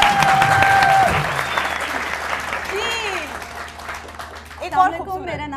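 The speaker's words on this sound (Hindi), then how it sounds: "तालियां बहुत" Studio audience on a Pakistani weekend talk show breaks into applause, a dense wash of clapping that swells and fades, with a host's voice and a brief musical sting over it.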